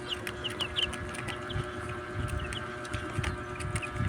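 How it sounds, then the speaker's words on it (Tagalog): Pet chicks peep in quick, high cheeps scattered over a steady low hum, close by, with no talking. "Tingnan yung sisiw na yan."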